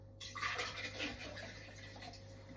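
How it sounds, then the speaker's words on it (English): Water pours steadily into a cooking pot of spicy seafood stew, a continuous close rushing splash that runs unbroken from start to finish. "Add more water."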